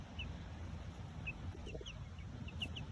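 Chickens clucking on a farm, several short faint calls scattered over a steady low rumble of background noise, with no talk.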